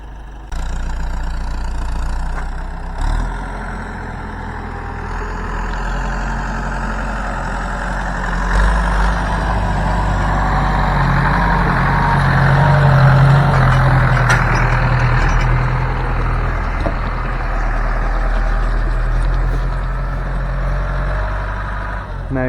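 Heavy tanker truck with a steady, rumbling diesel engine rolling slowly in off a road onto a farm yard, loud and close throughout, with a brief air-brake hiss and faint speech in the background.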